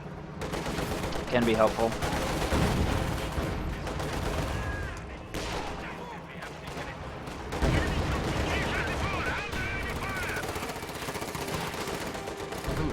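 Coaxial machine gun fire in a video game comes in bursts of rapid rattling shots among explosions and battle noise, with a commentator talking over parts of it.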